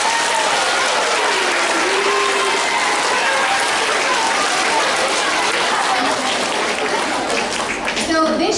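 An audience claps and applauds at a school awards assembly, a dense and loud wash of clapping that holds steady throughout and tapers slightly near the end.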